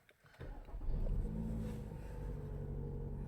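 A 2021 Toyota Alphard's 2.5 litre petrol engine catches and settles into a smooth, low idle, a steady close rumble after a brief start-up surge, with no talking.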